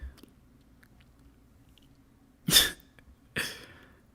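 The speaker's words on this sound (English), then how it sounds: "Cough." Two short, sharp coughs about a second apart in an animated One Piece fight scene, standing out loud against a quiet background.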